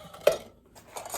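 A metal frosting spreader and other kitchen utensils clink together during thrift store finds, a couple of light metallic clatters with a pause between, faint and close.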